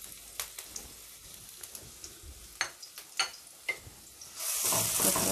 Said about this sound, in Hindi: अब हम इसमें चॉप लहसुन और चॉप अदरक डालेंगे